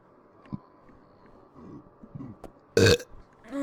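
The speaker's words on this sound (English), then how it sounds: "A 15-minute burp session all for you" A short, loud burp in a home bathtub, a single abrupt belch after quiet, faint splashing and movement, with another rougher sound starting right at the end.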